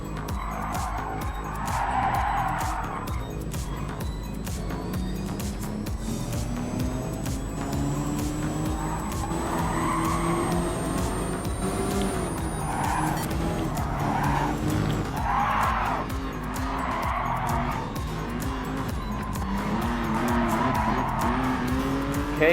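Race car in Gran Turismo Sport on the Miyabi course, engine roaring steadily as it shifts through gears, with tyres squealing and skidding through corners and other cars audible nearby, loud and continuous throughout.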